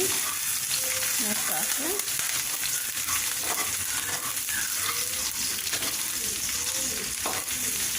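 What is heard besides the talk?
onions frying and being stirred in a pan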